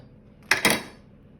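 A metal baking tray clatters twice in quick succession while food is arranged for a Christmas leftover bake with Yorkshire pudding, cheese and bacon, a short close handling clank alone against quiet.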